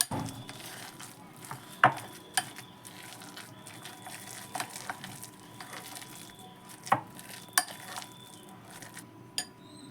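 A spoon clinks and scrapes against a bowl as dal vada batter is mixed with masala, salt and turmeric, giving light irregular taps and knocks close by over low background hiss.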